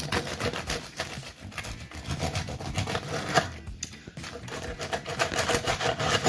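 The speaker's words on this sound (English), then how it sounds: "I gotta cut an actual slice of this here" A knife saws back and forth through a loaf of chocolate sourdough bread, producing a continuous close crackly rasp of crust and crumb that lasts several seconds.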